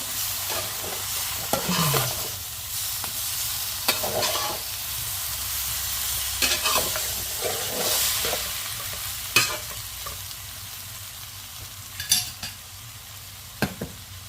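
A spoon stirs coconut milk curry laced with vinegar in a hot pan: steady scraping and stirring over a soft sizzle, with a few sharper clinks against the pan.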